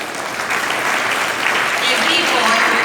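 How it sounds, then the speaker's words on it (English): A school assembly audience applauds with a continuous, dense clapping close by, voices mixing in beneath the clapping. "So once again, clap for these boys."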